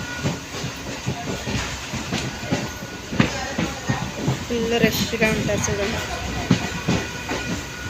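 A crowded local passenger train running along the rails, with a steady rumble and clatter and occasional hissing, while a voice talks over it close by.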